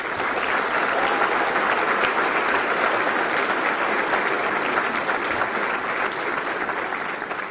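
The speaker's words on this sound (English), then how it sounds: "Please give him a big round of applause." Sustained, loud applause from a large audience at the New Mexico governor's 2023 State of the State address fills the hall steadily without a break.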